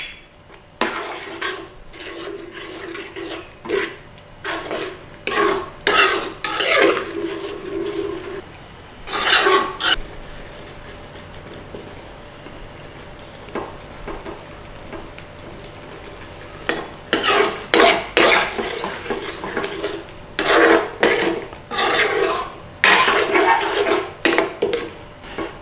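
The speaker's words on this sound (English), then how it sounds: "Give that a stir in." Chicken rogan josh curry being stirred in a pan, with repeated bursts of scraping and rasping utensil strokes against the metal between quieter pauses, close and fairly loud.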